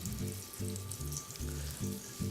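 Lamb hitting a hot pan slicked with extra virgin olive oil, giving a steady, close sizzle throughout, with low pulsing tones running underneath.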